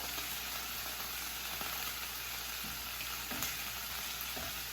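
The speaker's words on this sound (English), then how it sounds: "They snap, crackling, and popping everywhere. That oil's just going crazy." Oil sizzles steadily in a pan while frying for chicken Wellington, with a constant hiss broken by a few small pops and crackles, close up and with no talking.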